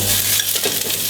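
Chopped shallots hit a warm saucepan with a soft, continuous sizzle, heard close and on their own for a brief moment with a faint scrape of stirring.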